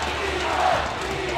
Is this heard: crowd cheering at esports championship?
yes